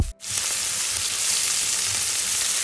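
Garlic and onion hit hot oil with a sudden loud sizzle that continues steadily, a close, bright frying crackle.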